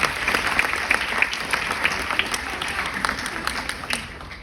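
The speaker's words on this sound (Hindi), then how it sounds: "तो एक बार फिर से जोरदार तालियां" An audience claps loudly at a stage drama award event in Bhopal, a steady dense patter of many hands with sharper individual claps standing out, continuing for several seconds.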